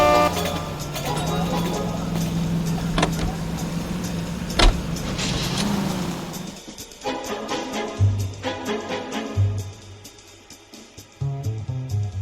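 A car driven in the video game LA Noire: steady engine drone with a sharp horn-like blip and clunks, then the engine drops away into quieter rumbling bursts while voices talk over it.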